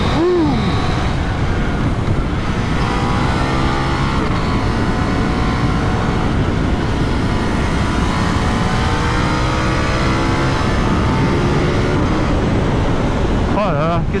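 A motorcycle on Mitas Sport Force tyres rides along with a steady engine drone and wind rush that holds for the whole stretch, with a brief rising rev near the end.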